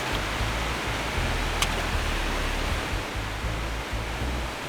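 Steady broadband rush of a waterfall on a trout stream in the Hudson Valley, a continuous close, fairly loud roar of falling water with no talk over it.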